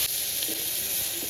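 Crushed garlic sizzling in hot oil, a steady close hiss with a faint crackle throughout, no talking.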